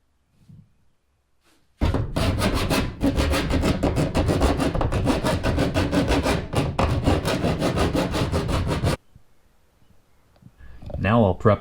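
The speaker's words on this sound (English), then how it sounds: "I bend the tabs down and then use the pliers to try and make the roof and the tabs flush with each other" Pliers bend and clamp metal roof tabs on a Chevy Astro camper van around a MaxxFan opening, giving a loud, dense run of scraping, creaking metal and tool noise that goes on for about seven seconds, then stops.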